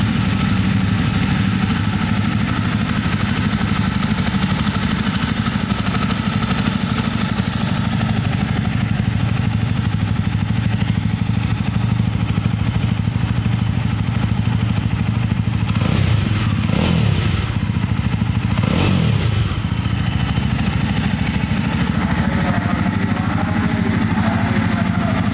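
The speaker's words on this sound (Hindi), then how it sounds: "सो आपको एक बार साउंड सुना देता हूँ बाइक का, कैसा साउंड इस बाइक के अंदर आता है।" A Jawa 42 2.1 motorcycle engine idling with a steady, deep thrum and mechanical clatter close by, rising in two short revs around the middle before settling back to idle.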